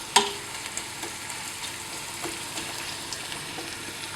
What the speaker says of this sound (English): Now I need to fry this onion